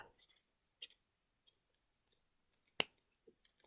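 Scissors snipping through folded paper while shaping a traditional origami owl, a handful of short, quiet cuts and clicks spread apart, one sharper snip standing out near the middle.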